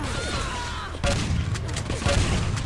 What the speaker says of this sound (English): There's so much use of shotguns still, despite its weakening.